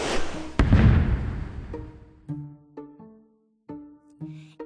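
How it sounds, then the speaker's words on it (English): Cartoon fireworks from a kids' number grid video game: two loud booming bursts near the start, then a run of bright chiming tones with short pauses between them. "It's July 4th, and the city is celebrating with fireworks."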